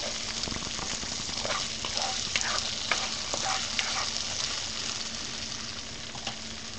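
Fried rice in a hot pan being stirred and turned with a rice scooper, with a continuous sizzle and scattered scraping strokes, close and moderately loud, without talk.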